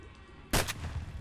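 A single loud shotgun blast firing a slug in the video game S.T.A.L.K.E.R., a sharp report with a short decaying tail, heard alone without talk.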